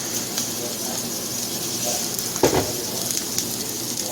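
Eggs frying in a pan seasoned with salt and pepper, a soft continuous sizzle and hiss with a brief clatter partway through, close and moderately quiet.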